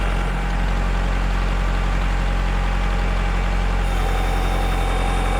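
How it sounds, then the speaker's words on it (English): A tractor engine idles and works steadily at close range while lifting a heavy water tote, a continuous low rumble with constant vibration and no talking. "See if the tractor can lift it up."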